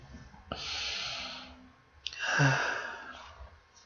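Two deep, slow breaths drawn in and let out near the microphone, each a long airy rush, the second heavier and ending in a sighing exhale.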